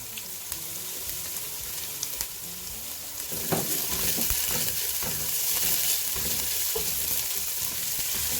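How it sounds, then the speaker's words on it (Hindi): Garlic ginger paste fries with browned onions in hot oil for a chicken handi, making a dense, steady close-up sizzle with a few light stirring scrapes. "एक मिनट के लिए लहसुन अदरक पेस्ट को मैं इसमें भूनूंगी"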